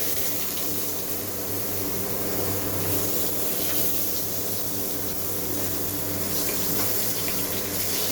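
Eggplant frying over high gas in oil left from frying mourola fish gives a steady, loud, continuous sizzle with no pauses and no voices.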